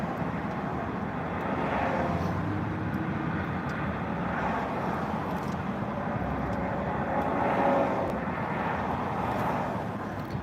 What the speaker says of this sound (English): You hear all the traffic noise.